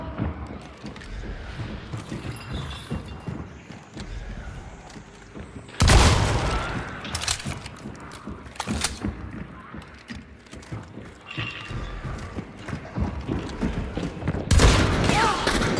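Two loud, sudden shotgun blasts boom in the video game Hunt: Showdown, spaced several seconds apart over a dense bed of in-game ambience with hoof clatter and rustling.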